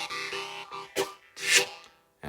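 Harmonica chords from a harmonica lesson, a short pattern of blow and draw chords with several quick reedy bursts and a sustained chord near the end, played solo and fairly quiet.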